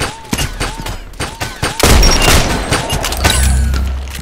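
Gunfire in the shooter game Contract Wars: several sharp bursts of shots and booming impacts in quick succession, loud and close, ending in a sustained rumbling volley.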